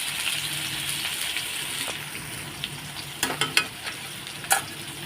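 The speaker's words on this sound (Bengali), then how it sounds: "এই যে জিরেটা ভাজা হয়ে গেছে দিয়ে দিলাম আলুটাও আলুটা লাল লাল করে ভেজে নেবো" Potatoes frying in oil with cumin seeds make a steady close sizzle, broken by a few sharp clinks and scrapes of stirring near the end.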